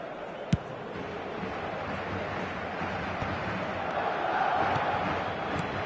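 Restless stadium crowd at a Paris Saint-Germain football match, a steady broad roar of many voices with a sharp shout or whistle near the start and the murmur swelling slightly toward the end.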